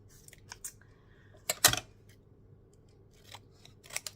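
A quick burst of scissors snipping through a paper photograph, close and fairly quiet, followed by soft handling clicks and rustles in an otherwise still room.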